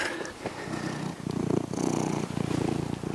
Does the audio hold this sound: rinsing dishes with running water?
no